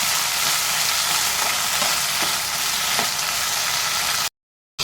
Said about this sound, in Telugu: నల్లూరి కాడలు అయితే వేసిపోతున్నాయి కదా